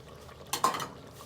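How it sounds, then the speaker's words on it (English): Brief clatter of a utensil stirring lemongrass and herbs into chicken in a pot, a couple of quiet scraping knocks in a calm kitchen. "And then stir. Let them mix them together."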